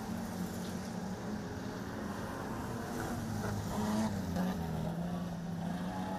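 Street stock race cars roaring around Lismore Speedway during an A-Main race, a continuous loud engine drone with droning tones rising and falling as cars circle the track, steady and fairly distant.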